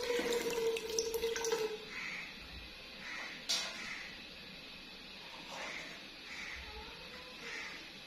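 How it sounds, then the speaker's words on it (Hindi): A cup of water is poured into a pan to start sugar syrup for a quick dessert, a splashing stream for under two seconds that gives way to faint trickles and drips. "पहले चाशनी, तो चाशनी वास्ते असी डालांगे एक कप पानी का।"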